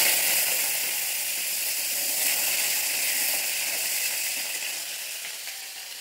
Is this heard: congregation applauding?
no